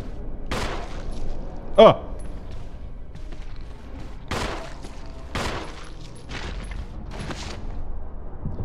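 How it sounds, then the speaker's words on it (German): Several sharp, loud gunshots, about seven, fired at a zombie in the GameCube Resident Evil, spaced irregularly over quiet game ambience, with a voice briefly exclaiming. "Das waren jetzt 9 Schüsse für einen Zombie."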